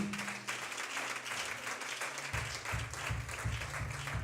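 A church congregation applauding, dense steady clapping from many hands throughout, with a low organ-like tone sustained underneath.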